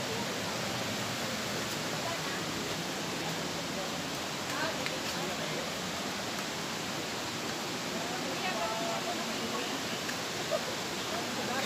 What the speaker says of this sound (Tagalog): Yung ilog oh, mga karurot.